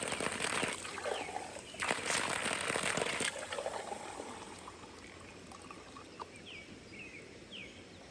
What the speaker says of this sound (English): I gotta get 2 cups of water in here first.